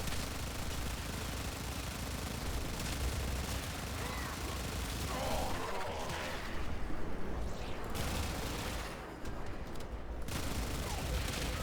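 Warframe gunfire during the Perita Rebellion battle, dense continuous shooting and bursts from many weapons, loud and busy throughout, with brief thinner moments.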